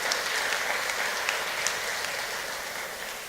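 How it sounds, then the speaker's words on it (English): A large audience at a charity's evening birthday celebration applauds in a thick, even wash of clapping that holds steady and loud, with only a slight fade at the end. "we need to give you all a round of applause"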